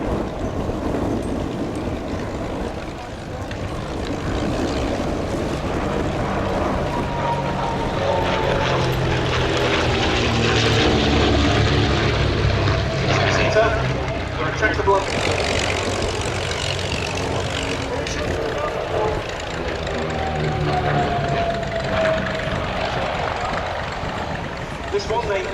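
Propeller engines of de Havilland racing aircraft roar steadily overhead at an air festival, a loud continuous drone that swells and shifts in pitch as they pass, with crowd or commentary noise mixed underneath.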